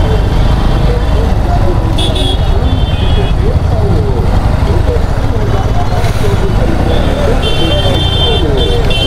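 Cars and motorcycles crawl in a traffic jam at a railway crossing, a loud, dense wash of idling engines and road noise with high horn-like beeps sounding now and then; someone talks over it.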